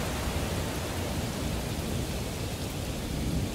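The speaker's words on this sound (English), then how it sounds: "As the rain pours down," Heavy rain pours steadily in a thunderstorm as a dense, constant roar of broadband hiss with a low rumbling undertone. It stays even and loud throughout, with no voices.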